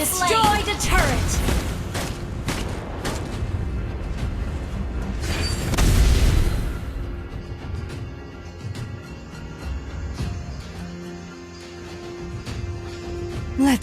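Turret destruction in a Mobile Legends ranked match, with booming explosive game effects and rattling bursts over busy game noise, while a game announcer voice talks over the action.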